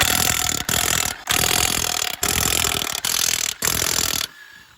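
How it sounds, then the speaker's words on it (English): An impact wrench spins lug nuts off a trailer wheel in repeated loud buzzing bursts, about five in a row with short gaps, then stops. "Now let's get these lug nuts off of here."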